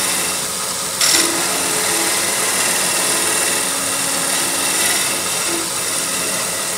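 A scraping tool cuts a turned bowl on a wood lathe, making a loud, continuous close-up hiss and rasp over the steady hum of the spinning lathe, with a sharp bump as the tool first engages.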